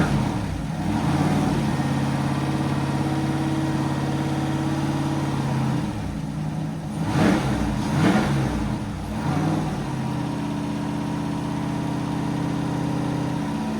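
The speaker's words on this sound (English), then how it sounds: "Yeah, definitely got a misfire." Drift car engine running with a misfire, a steady close idle drone with uneven lumpy pulses and a brief blip of revs in the middle before settling back to the same rough hum.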